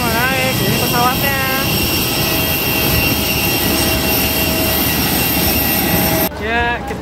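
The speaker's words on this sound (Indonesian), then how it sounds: "Ini pesawatnya." A jet airplane roars loudly and steadily at an Indonesian airport, a constant close engine rumble and whine filling the whole stretch while people talk over it.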